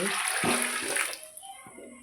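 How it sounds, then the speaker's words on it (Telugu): Water pours steadily into a cooking pot for rice, a broad splashing rush that thins out after about a second, with a few soft knocks and a faint voice in the background. "ఆ నీళ్ళని నేను ఇలా పోసుకుంటున్నా"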